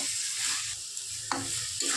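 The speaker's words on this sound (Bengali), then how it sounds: "আলুগুলো দিয়ে কিছুক্ষণ ভেজে নেব, 5 মিনিটের মতো ভেজে নেব" Potatoes fry in a thick cooked-down spice masala for a Bengali egg and potato curry, a soft steady sizzle with a couple of spoon scrapes against the pan.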